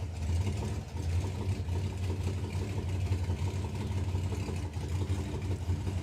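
Methanol-fueled drag race car engine idling nearby, a loud, steady, lumpy low rumble with slight surging throughout.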